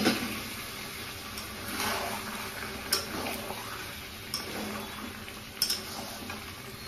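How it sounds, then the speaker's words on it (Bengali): Mutton simmers in a pot with a little water while a utensil stirs it, giving faint intermittent clinks and scrapes against the metal over a low, quiet cooking hiss. "সামান্য জল দিয়ে আবার আমি কষে নেব"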